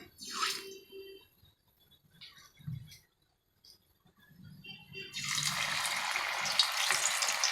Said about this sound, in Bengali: তেলে আমি গরম তেলে এটাকে দিয়ে দেবো এবারে।